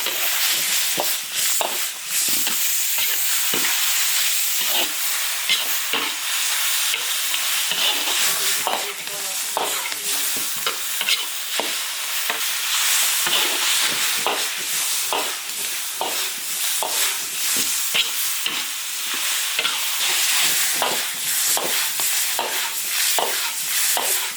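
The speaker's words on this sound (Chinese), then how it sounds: "把五花肉炒干一点" Pork belly stir-fries with ginger and chili in an iron wok, a steady loud sizzle broken by frequent scraping and clanking stir strokes throughout.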